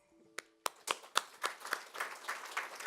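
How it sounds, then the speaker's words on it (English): Applause at a presentation event starts with a few sharp individual claps, then grows into a modest, rhythmic round of clapping from a small audience, close and distinct. "I think they deserve another applause now"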